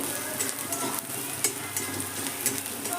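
Onion frying in a pan with turmeric and Kashmiri chili powder, stirred steadily: a continuous close sizzle with scraping strokes and a few sharper clinks of the spoon against the pan.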